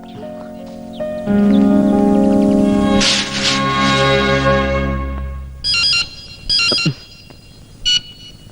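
A mobile phone rings in a comedy film scene with a loud melodic ringtone, followed by several short, bright repeated ring bursts with pauses between them.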